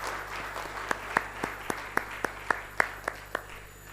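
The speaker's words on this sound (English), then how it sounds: "Can I request a huge round of applause for ourselves for that?" A conference audience at an annual gathering claps sparsely in a quiet hall: a dozen or so distinct, fairly evenly spaced claps over a low background hum, faint rather than a full ovation.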